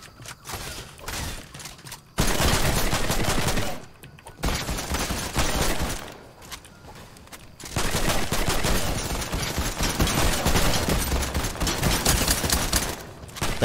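Rapid gunfire in the video game Fortnite, loud bursts of automatic shots in several stretches separated by short pauses, with faint mechanical clicks between them.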